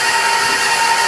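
An electric mixer beats eggs into oatmeal cookie batter for oatmeal cream pies, giving a loud, steady motor whine with a constant high hum that runs unbroken through the whole moment.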